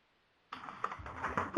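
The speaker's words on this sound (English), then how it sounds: "We've got someone typing here." Keys clatter on a computer keyboard in a short, uneven run of soft clicks that begins after a brief silence, faint and close to the microphone.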